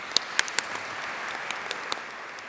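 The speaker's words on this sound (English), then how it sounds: "I will ask for a round of applause for council." Light applause for the council at a planning organization's annual general meeting, a thin patter of scattered claps with a few sharper nearby claps standing out over quiet room noise.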